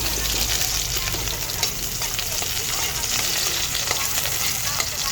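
Garlic frying in cooking oil, a dense crackling sizzle with occasional stirring scrapes, close and steady throughout.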